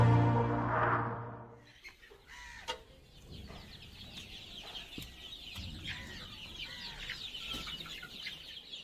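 Chickens cluck and chatter steadily at moderate distance on a desi poultry farm in a village in Siwan, following a brief voice at the start.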